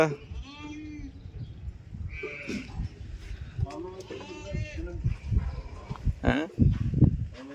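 Goats at a cow and goat farm in Qatar bleat in several short wavering calls, near and fairly loud, mixed in with people talking.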